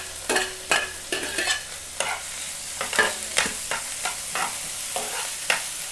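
Ginger, curry leaves and green chili stir-fried in a pan, with a steady sizzle broken by repeated scraping strokes of a spoon at an uneven pace, close and fairly loud, with no talking.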